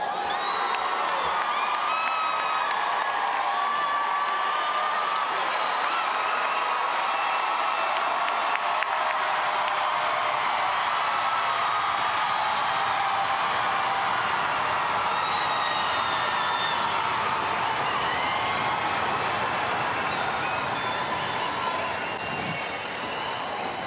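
Sustained applause and cheering from a large crowd at the Hastings class of 2017 graduation ceremony, steady and loud with whoops and shouts rising above dense clapping for the full stretch.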